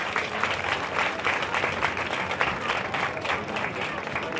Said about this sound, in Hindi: जोरदार तालियों से इस बेटी का स्वागत।